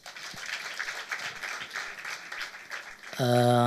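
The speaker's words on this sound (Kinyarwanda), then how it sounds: "Kadukomera Imana amashyi" Church audience clapping steadily, a loud wash of applause that continues for a few seconds before a sustained tonal chord swells in near the end.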